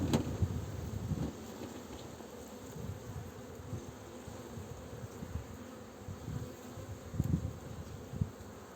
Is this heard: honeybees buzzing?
yes